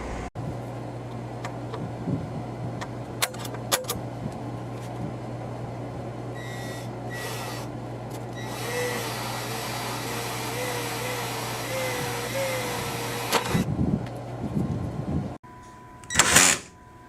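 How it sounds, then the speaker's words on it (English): A power drill whirs in several short runs, pre-drilling 1/8 inch holes in aluminum outdoors for self-tapping screws, its motor pitch sagging under load over a steady background hum, with a sharper burst near the end. "Now I'm going to pre-drill an 1/8 inch hole for my self-tapping screws"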